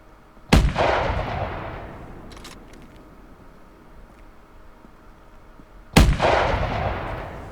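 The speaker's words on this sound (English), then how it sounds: "I'm gonna shoot it now." Two loud, sharp rifle gunshots ring out during a hunt, the first near the start and the second about five seconds later, each followed by a rolling echo that fades over several seconds outdoors.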